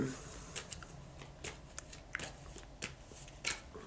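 Oracle cards are shuffled by hand in a series of quick, soft riffling and slapping bursts, close up and fairly quiet, with light handling noise between them.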